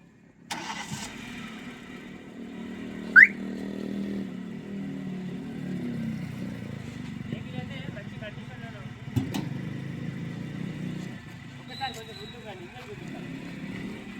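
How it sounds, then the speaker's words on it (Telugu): A car engine turns over and starts, then settles into a quiet, steady idle while a person talks over it. "ఒక్కసారి ఈ బండి స్టార్ట్ చేసి చూపిస్తాను, చూడండి."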